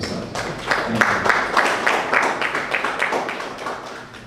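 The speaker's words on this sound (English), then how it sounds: "Please a round of applause again for yourself" Audience clapping in a hall after a talk on supporting African entrepreneurs, a dense patter of many hands, steady and moderately loud, tapering slightly near the end.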